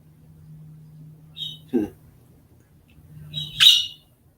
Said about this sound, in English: if y'all hear the tweets, that's Little Miss Sunshine, the bird